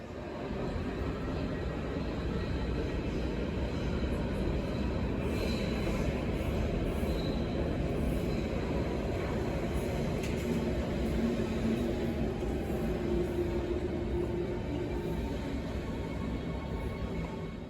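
A Berlin S-Bahn train rumbles steadily through a station, broadband noise filling the space with faint squeals and clanks, no voices.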